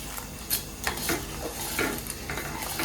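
Spoon stirring a homemade mixture in a pan on a gas stove, with scraping strokes every half second or so over a steady bubbling sizzle, close and moderately loud.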